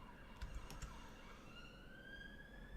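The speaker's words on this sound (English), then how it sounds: "That was an ambulance." Ambulance siren in the Cities: Skylines city-building game, a steady wailing tone sweeping slowly upward over the game's ambient hum, with a few brief clicks early on; fairly faint and heard alone.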